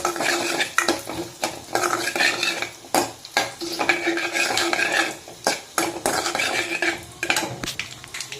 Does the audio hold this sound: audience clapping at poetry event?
no